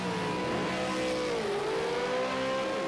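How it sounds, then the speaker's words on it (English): V8 Supercar at Ruapuna Park accelerating out of pit lane, an engine note rising, dipping briefly and climbing again in a continuous revving roar, heard from a distance without voices. "he smokes it up out of pit lane"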